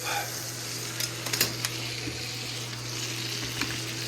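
A thick steak sizzles steadily in a hot pan, a continuous close frying hiss with a few brief louder crackles and clatters around the middle as the meat is flipped.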